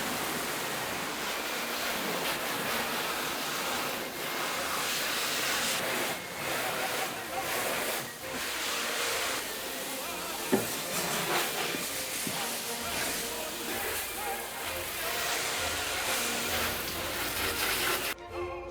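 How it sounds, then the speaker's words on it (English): A garden hose fitted with a spray nozzle attachment gives a broad, steady hiss of spraying water, continuous for the whole stretch with small shifts in intensity and a few brief knocks. "So I use a garden hose with this nozzle attachment, and I can change the spray pattern"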